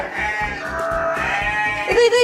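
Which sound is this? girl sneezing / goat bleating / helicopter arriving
goat bleating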